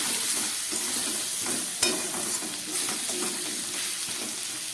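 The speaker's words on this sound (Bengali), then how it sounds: "মশলা দিয়ে সবজিগুলো একটু কষিয়ে নিলাম।" Vegetables sautéing with turmeric, coriander and cumin powder in a pan for Malabar spinach curry, giving a steady, dense sizzle throughout with one sharp clink of a spatula partway in, close and without voices.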